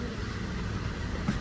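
A car drives along with a low, steady engine rumble and road noise, fairly quiet and unbroken over a short stretch.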